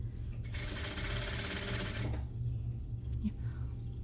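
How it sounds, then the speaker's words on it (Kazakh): A sewing machine stitches pieces of a fashionable suit in a close, fast whirring burst of about a second and a half, followed by quieter handling clicks and a small knock. "Осы ортаны қосып тігіп жатырмын."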